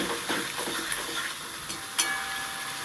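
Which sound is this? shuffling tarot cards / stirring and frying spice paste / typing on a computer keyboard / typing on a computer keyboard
stirring and frying spice paste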